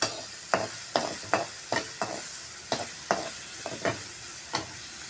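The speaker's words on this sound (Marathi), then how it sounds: "आणि भाजी परतून हे करते. एक अर्धा मिनिट शिजू देते हा कांदा आणि मिरची" Onion and three small chilies being stirred in a pan, with about a dozen sharp spatula scrapes and clicks at an uneven rhythm over a soft, steady sizzle, close and fairly loud, no talking.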